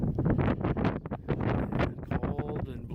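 Blustery wind buffets the microphone on a Missouri farm, steady gusting rumble and rustle throughout.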